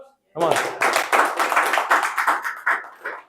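An audience claps at a public speaking talk, starting abruptly after a short silence, with distinct close claps in a quick, uneven rhythm that stays loud and then loosens toward the end.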